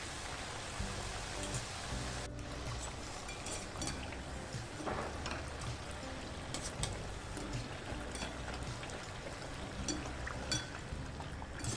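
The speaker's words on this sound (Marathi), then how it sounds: "आता मी बाकीच्याही चकल्या छान अशा सेम पद्धतीनं तळून घेणार आहे" Chakli spirals deep-fry in hot oil, giving a dense, even bubbling hiss that runs unbroken throughout, close and steady.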